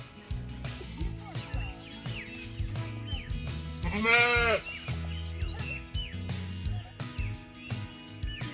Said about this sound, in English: The ones that are already overripe are a special treat for the sheep and goats.